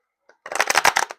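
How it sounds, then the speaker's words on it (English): Tarot cards shuffled by hand: a soft tick, then a quick burst of riffling clicks and flutters lasting most of a second, close and fairly loud, with no talking. "I'm gonna go ahead and shuffle here on camera"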